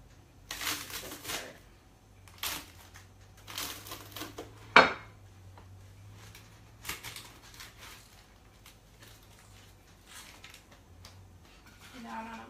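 A knife cuts into sheet-pan chicken hummus nachos, making soft crunching and scraping sounds against the metal pan, with one sharper crack midway and light clatter around it.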